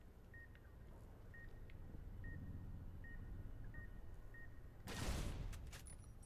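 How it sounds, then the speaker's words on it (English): A bomb collar in the game Fallout New Vegas Dead Money emits a faint, evenly spaced series of short electronic beeps over a low rumbling backdrop, followed by a sudden loud noisy burst. "My collar has stopped beeping."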